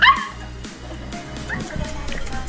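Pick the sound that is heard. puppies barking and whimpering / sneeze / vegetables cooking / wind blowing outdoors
puppies barking and whimpering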